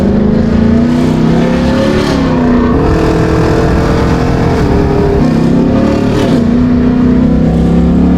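Loud, deep rumble of a sports car engine and exhaust, heard close, with the pitch rising and falling as the driver works the throttle.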